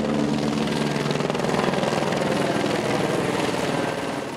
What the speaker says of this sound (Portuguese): um helicóptero da PM sobrevoava o batalhão de choque